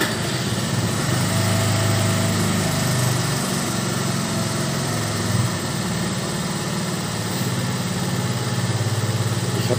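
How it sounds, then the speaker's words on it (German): A small engine, hot from driving, runs at a steady idle with a constant buzzing drone and a slight dip midway. It sounds near and loud, with no talking. "Ich mache mal den Motor an."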